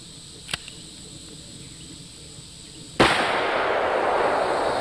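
A full-house .44 Magnum round fires from a 5.5-inch Ruger Super Blackhawk revolver: one loud, sharp report that hangs in a long, bright decay, preceded by a faint small click.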